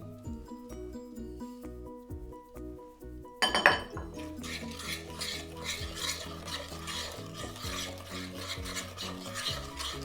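A vegan, gluten-free custard mixture being stirred in a bowl, a sharp clink of a spoon against the side followed by continuous scraping and swishing over background music.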